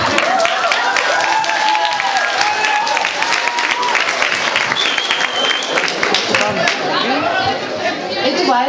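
Audience applause at a Christmas concert, steady clapping filling the whole stretch with lively crowd chatter and voices mixed in throughout.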